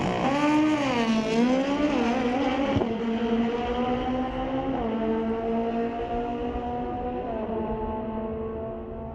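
Drag racing at Mission Raceway Park, an 08 Suzuki Hayabusa 1300 and a Suzuki race bike launching down the strip, loud high engine wails climbing through gear shifts, then fading into the distance.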